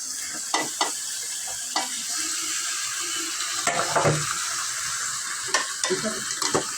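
Marinated chicken is dropped into frying masala and stirred in a pan: a continuous bright sizzle with scraping strokes of a spoon and occasional clinks against the metal.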